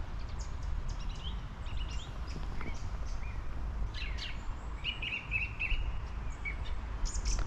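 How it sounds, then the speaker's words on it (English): Wild birds such as tits and robins chirp and sing beside a pool in Baggeridge Country Park on a morning, with faint, scattered calls over a steady outdoor wash of background noise. "look at the sounds of the wildlife this morning"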